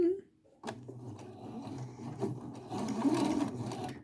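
A sewing machine hems pajamas, running in short bursts of rapid mechanical stitching with clicks and handling of fabric, fairly quiet and close.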